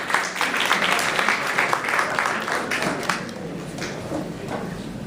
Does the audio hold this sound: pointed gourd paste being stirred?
no